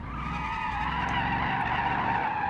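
Car tires skidding and squealing continuously during a spin-out in the BeamNG driving game, a steady high screech over engine rumble, no voices.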